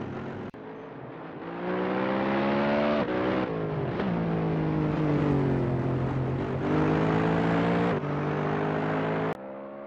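Lexus 2019 race car in Assetto Corsa, its engine roaring loud and near as it passes, with rising and falling revs, gear shifts and changing pitch over about ten seconds, no talk.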